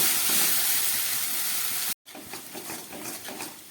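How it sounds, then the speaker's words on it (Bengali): Onion, garlic, ginger and green chili fry with spices in a pan, giving a steady hiss and sizzle with a brief dropout midway, then continuing with soft crackles. "এবার মশলা দিয়ে ভালো করে এটাকে 1 মিনিটের মতো আমি কষিয়ে নেব।"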